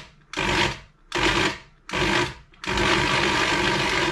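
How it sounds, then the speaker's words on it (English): An electric coffee grinder pulverizes a packet of dry ingredient for home-brewed mango and ginger cider, running in three short loud bursts with brief pauses before a longer continuous grind. "I'm going to break it down using my coffee grinder, which should get it a bit more powdery."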